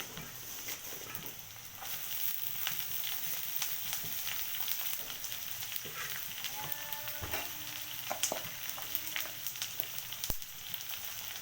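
Potatoes frying in an oil-filled pan during a bathua greens dish: a constant crackling sizzle, broken by occasional clinks and scrapes of a spatula.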